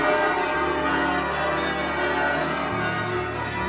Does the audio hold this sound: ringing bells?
yes